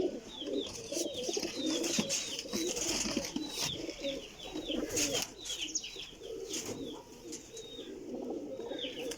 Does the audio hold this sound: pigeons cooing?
yes